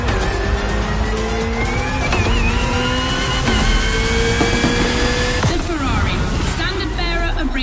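Racing cars in the video game The Crew, at a Red Bull Speed Clash event, roar loudly and continuously, with rising and shifting engine pitch, tire squeal and passing sweeps, with a voice speaking over the noise.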